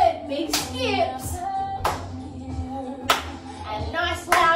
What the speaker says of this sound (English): And nice loud claps.